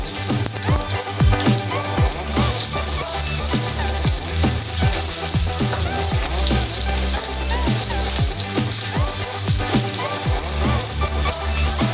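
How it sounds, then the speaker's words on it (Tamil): Sliced onions sautéing in hot oil with fennel seeds for a chicken gravy, a steady, close sizzle and crackle throughout that runs without a break and stays fairly loud. "வெங்காயத்தை போட்டு நல்லா வதக்கிக்கோங்க"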